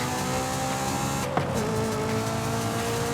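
A car engine in the driving game Forza Horizon 5 holds a high, steady rev as its VTEC kicks in, with a brief shift-like blip midway and no talking.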